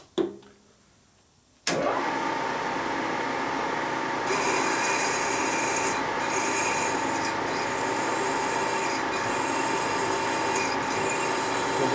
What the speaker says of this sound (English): now we go and drill it 1 1/8 inch in